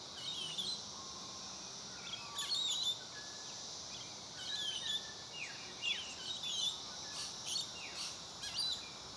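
Willie wagtails call as a parent feeds its young: bursts of sharp, high chirps and twitters come at irregular intervals over a steady hum of insects.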